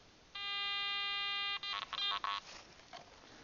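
A metal detector sounds at a WWII bunker site: a steady electronic tone holds for over a second, then breaks into several short choppy beeps before fading, with no talking.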